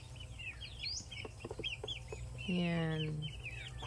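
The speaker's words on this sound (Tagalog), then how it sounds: "Dalawang inahin lang yan. Yang 16 peraso nga sisiw." Two mother hens and sixteen chicks on a Philippine provincial farm, with soft hen clucks and a stream of high peeping chirps close by, while a person speaks briefly.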